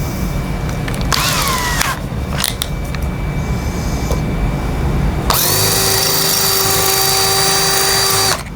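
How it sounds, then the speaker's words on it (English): A power drill whirs steadily for several seconds while repairing a Pabst Blue Ribbon neon sign, after some brief clattering and handling noises, loud and close. "Next thing I have to do is use the drill"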